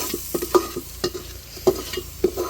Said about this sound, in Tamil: இஞ்சி பூண்டு உடனே நீங்கள் அந்த பச்சை வாசனை போகிற வரைக்கும் நல்லா வதக்கிறீங்க